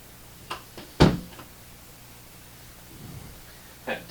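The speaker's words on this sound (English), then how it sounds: "Close the door." A door swings shut with one sharp close-range thud, following a few faint taps and rustles, then a softer knock near the end in a quiet room.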